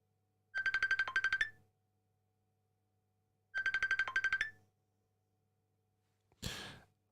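A phone rings for an incoming call in two short bursts of rapid electronic trilling with a pause between them, followed by a breathy sigh near the end, fairly close and clear against a quiet background.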